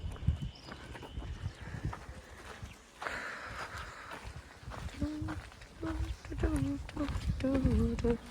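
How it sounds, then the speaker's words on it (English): Horses and a donkey pass along a Camino Portugués route on a hot day, their hooves clip-clopping at a walking pace amid outdoor ambience, with people talking over them. "Some more horses and a donkey."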